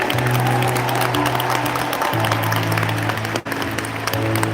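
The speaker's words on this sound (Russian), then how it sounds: "Бурные аплодисменты!" Enthusiastic applause rings out over loud, steady background music with sustained tones, continuous throughout.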